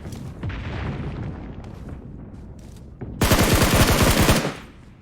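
Gunfire in a Turkish-played online shooter, a loud dense burst of rapid shots arriving after quieter muffled game sounds, fading out at the end.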